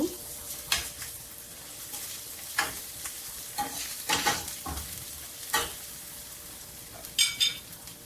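Onion and garlic fry in a pan as a spoon stirs them, giving a soft continuous sizzle broken by repeated scraping and light clinking strokes, fairly quiet and close.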